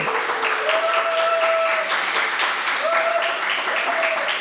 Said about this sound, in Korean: 이규남 박수를 하겠습니다.